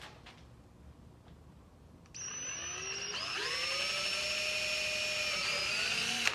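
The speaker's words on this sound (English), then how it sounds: "Let's go ahead and drill that out." A power drill spins up with a bigger bit and bores a hole through a boat trailer's metal, a rising whine that steadies into a loud, continuous grinding tone after a quiet start.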